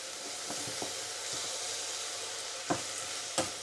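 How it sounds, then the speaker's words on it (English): Rice grains for a mushroom and pea risotto sizzle in a hot pan as they are stirred to coat them, a steady close frying hiss broken by a few sharp scraping strokes. "Quick stir, and then we will, just to coat all the grains"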